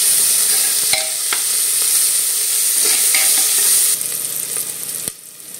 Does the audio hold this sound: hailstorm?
no